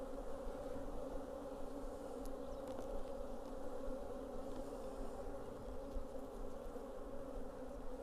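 Honeybees humming steadily around an open hive during an inspection, a dense, even, continuous buzz of many insects, fairly quiet and close with no speech.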